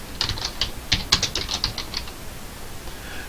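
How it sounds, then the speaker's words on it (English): Name being typed on a keyboard, about a dozen quick light key clicks in an uneven burst, close and clear, then a short quiet pause. "And now I'm going to type in my name."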